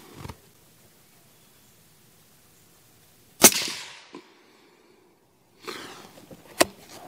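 A CZ 600 Alpha rifle fires 6.5 PRC rounds at a 100-yard range: two sharp, loud cracks a few seconds apart, each trailing off in a short ringing decay over a quiet background.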